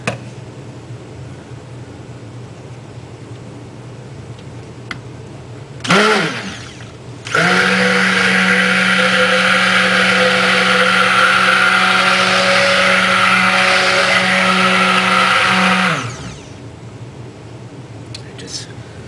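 Stick blender whirring continuously for about nine seconds while mixing crushed peppermint cold process soap batter, loud and close, preceded by a brief test burst, with quiet talk before and after.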